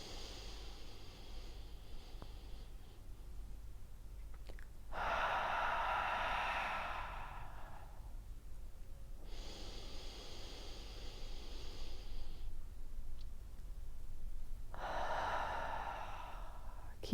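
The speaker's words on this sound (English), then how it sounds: "Breathe into the stomach, then the rib cage. Here we go. Breathe in. And breathe out." Deep breathing for a breathing exercise, three long, slow, airy breaths spaced several seconds apart with quiet pauses between them, close to the mic.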